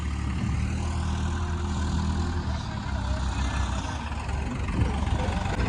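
A 260 HP tractor engine labours steadily in a farm field, pulling a trolley loaded with paddy seedlings that is stuck in the mud. The low, continuous rumble stays loud and close throughout, with no talk over it.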